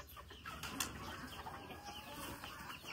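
Chickens cluck softly on a poultry farm where a torn net has let the whole flock crowd to one side; a quiet, steady murmur of fowl with occasional louder calls.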